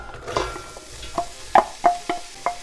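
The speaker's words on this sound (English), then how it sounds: "we want to saute the onion until it's tender and translucent" Onion sautéing in melted, bubbling oil and butter over medium-high heat, with a soft sizzle under a series of sharp scraping stirs and clacks of a utensil against the pan.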